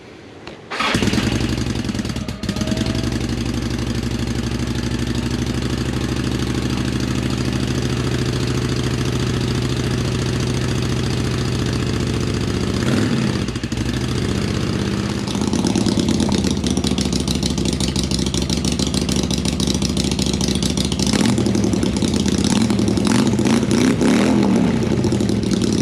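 A Cobra's engine cranks and fires up, then idles with a deep rumbling exhaust through a new exhaust system, revving higher partway through and again near the end, loud and close.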